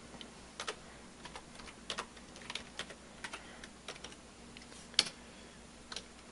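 Keystrokes on a computer keyboard entering code, irregular close clicks in quick bursts with one sharper press near the end, no voices.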